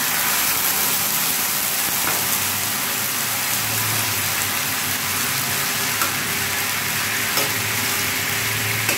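Soaked dried tomatoes fry in a pan with a steady, dense sizzle that holds constant throughout, close and fairly loud, with faint stirring.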